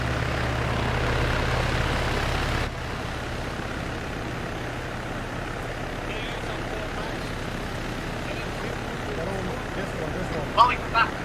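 A helicopter in the ARMA 3 video game drones steadily with a constant rotor and engine rumble that drops slightly in level partway through, while voices talk faintly over it.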